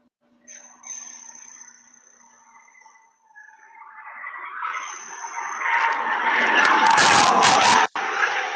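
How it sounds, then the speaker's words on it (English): Speeding car crashing in a residential area: a faint motor rises into a loud skidding roar with a sharp impact near the end, heard from a distance in recorded footage. "You can hear her crash one more time."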